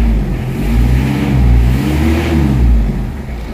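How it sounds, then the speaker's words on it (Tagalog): A car engine low on oil hums at about 2000 RPM with little power, rising and falling gently in a low rumble, steady and close with no voices. "Yung andar ng engine nasa 2000 RPM"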